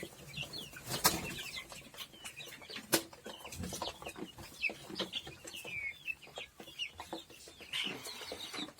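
Chickens cluck in a coop among young chicks and geese, with wings flapping now and then; the calls are fairly faint and scattered, with a few sharper bursts rising above steady farmyard background.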